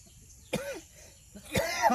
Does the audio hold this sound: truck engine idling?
no